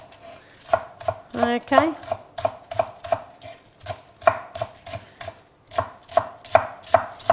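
A knife chops shallots on a cutting board in a home kitchen, with steady rhythmic knocks falling about twice a second, close and crisp; a voice briefly speaks once.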